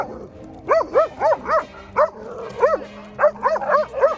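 Max, a dog rescued from an abusive former owner, lets out a rapid series of high, yelping barks and whimpers, close and clear, each short cry arching in pitch.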